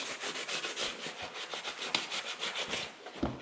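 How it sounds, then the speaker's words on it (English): Sandpaper, 60 grit, rubbed by hand over a 1966 C2 Corvette dash pad gives a steady, close scraping rasp in repeated back-and-forth strokes, with no talking. "I'm not going to sand out here in the area where it's not getting glued, but just try and get all these other areas."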